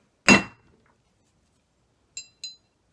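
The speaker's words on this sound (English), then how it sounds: "you want to take your hammer and you want to just strike it once" A hammer hits a steel letter stamp on a small brass disc in one sharp, loud strike, followed after a pause by two light metallic clinks, with quiet surroundings.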